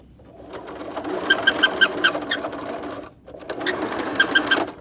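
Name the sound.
sewing machine stitching a face mask, making funny noises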